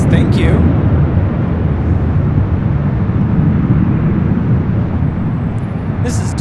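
A Delta Airlines Boeing 737-900ER bound for New Orleans takes off at LAX with a loud, steady jet roar that fills the air for several seconds, a broad rumbling wash heard from nearby outdoors.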